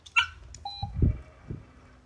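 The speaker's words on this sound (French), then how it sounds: "tu fais biper, le chien va chercher la friandise" Short electronic beeps from a remote dog training device at an agility course, a few thin tones near the start, followed by soft low thumps and rustle.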